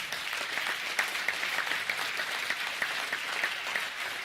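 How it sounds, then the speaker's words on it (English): Applause from the audience at a charity awards ceremony: continuous, fairly soft clapping from a sizeable crowd with a few sharper individual claps standing out, steady and somewhat distant. "can you get another round of applause for these guys"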